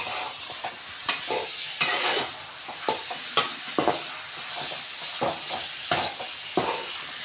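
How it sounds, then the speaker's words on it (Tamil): Chicken varuval fries in a pan while a spoon stirs the spice-coated pieces, giving a steady sizzle broken by repeated scraping strokes and clacks against the pan, close by. "இப்போ எல்லாத்தையும் போட்டுட்டு மொத்தமாக நம்ம என்ன பண்ணுறோன்னா கிண்டி விட்டுக்கலாம்."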